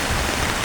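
Heavy rain falls in a steady, dense broadband wash, loud and continuous throughout, during a flood with a large truck nearby.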